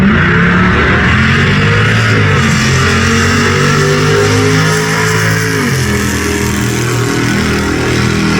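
Drag race cars at Bristol Dragway, including an early 1976 Duster, roar continuously as they accelerate, loud and close with steady engine drone and shifting pitch, no talk over it.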